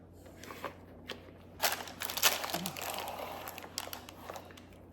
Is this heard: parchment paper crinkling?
yes